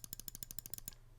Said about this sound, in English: Right and left click.